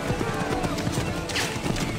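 Horse hooves clip-clop in rapid galloping rhythm during the Battle at Lexington in Assassin's Creed 3, with a faint whinny, amid game battle noise.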